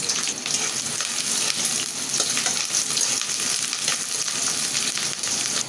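Onion and green chili hitting hot oil give a loud, dense, continuous sizzle and crackle close up that holds steady throughout, with faint rattles of stirring beneath.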